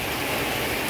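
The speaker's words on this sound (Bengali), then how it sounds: "এদিকে দেখেন হিউজ পরিমাণ বৃষ্টি হইতে আছে" Heavy rain pours outdoors around a village kitchen where chicken curry cooks on a clay stove, a dense, steady wash of noise without pause and no voices.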